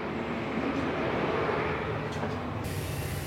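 The Purwojaya executive train departs Purwokerto station, a steady, loud low rumble and hissing noise from the rail cars, continuous throughout with a slight shift in texture near the end.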